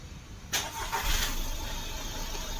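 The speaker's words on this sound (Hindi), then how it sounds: "अब हम गाड़ी को स्टार्ट करेंगे" A Skoda Rapid cranks and fires up after a steering column replacement, a sudden start followed by the engine settling into a steady idle, heard close and without voices.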